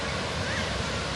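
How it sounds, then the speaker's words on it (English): A waterfall's rushing water roars in a dense, continuous wash, loud and steady with no pauses. "there it is. The waterfall!"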